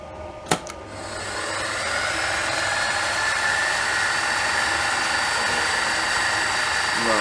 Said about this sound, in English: I'm going to do this drilling operation dry.